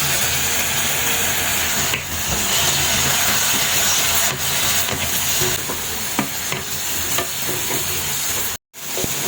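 Eggplant sizzles loudly in a hot pan while being stirred, with a dense continuous frying crackle broken by scraping stirring strokes and a brief cutoff near the end.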